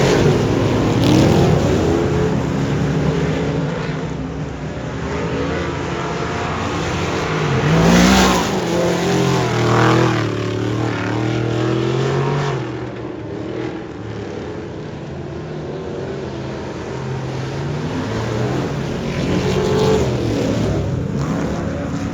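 Race car lapping a track during a hot lap session with the hood off: a continuous engine roar rising and falling as it accelerates down the straights and eases through the corners, loud and steady throughout.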